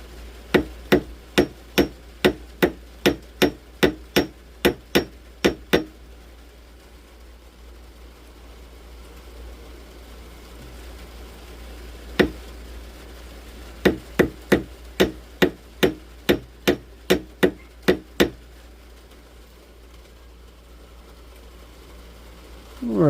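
Sharp hammer blows on a metal shank being straightened, first a fast steady run of about twenty strikes, then a lone hit, then another quick burst of a dozen, loud and close with no talking.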